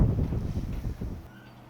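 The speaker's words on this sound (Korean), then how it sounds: "바람이 많이 부네요." Strong wind gusting across an outdoor weekend farm plot, a loud low rumble of buffeting against the microphone that eases off toward the end.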